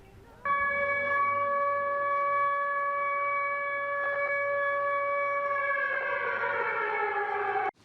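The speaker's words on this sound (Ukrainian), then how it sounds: "розгорнули під звуки повітряної тривоги" A loud air raid siren in Ukraine wails steadily with a sustained harmonic tone, rising and wavering near the end before cutting off.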